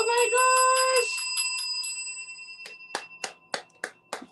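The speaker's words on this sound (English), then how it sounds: "There's your bell, darling. There's your bell." A small bell, like a bicycle bell, is rung in a home kitchen: a sustained ringing tone at first, then a series of separate sharp rings at a steady rhythm, fairly close and clear with no talking over it.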